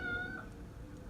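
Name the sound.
cat meowing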